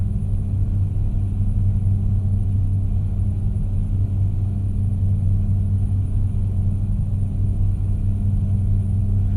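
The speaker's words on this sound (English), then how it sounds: "Side pipes on this truck. That's why the truck isn't really that loud." A truck engine with side exhaust pipes drones in a truck driving video game, a steady low rumble with a constant tone, moderately loud and unchanging throughout.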